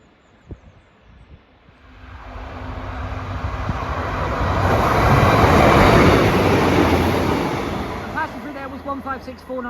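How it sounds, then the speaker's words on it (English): A Northern passenger train, a class 156 diesel unit on a Morpeth to Carlisle service, passes through Corbridge station, its rumble swelling to a loud broad roar midway and then fading, with clicks and squeals toward the end. "156496 on a northern service from Morpeth to Carlisle."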